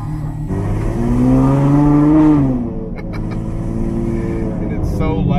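A straight-piped Ferrari F12 V12 revs up with a loud, rising roar that peaks and falls, then settles into a rough idle with bursts of voices over it.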